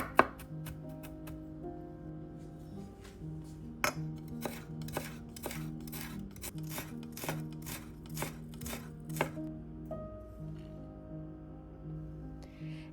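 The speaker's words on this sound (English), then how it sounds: "Then finely mince 2 cloves of garlic and a piece of ginger." A knife chops green onion and then minces garlic and ginger on a board, with sharp, regular taps that come quickly and sometimes pause, close and distinct over soft background music.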